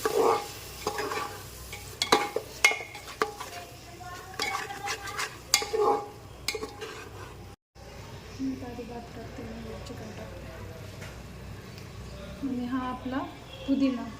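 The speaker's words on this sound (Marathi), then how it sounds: "दही टाकल्याच्या नंतर मग गॅस बारीक करून पूर्ण मिक्स करून घ्यायचं सगळे मसाले आणि दही" Chicken biryani masala mixed with yogurt in a pan, stirred with repeated scraping and clinks of a spoon against metal, a soft sizzle beneath, and a person speaking over much of it.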